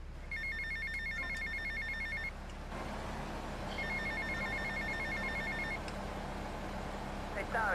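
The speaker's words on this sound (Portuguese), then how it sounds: "Ah, o telefone tá tocando, mano." A telephone rings twice in Grand Theft Auto: Vice City, repeated electronic trills over a steady low engine-like hum, with someone talking over the game.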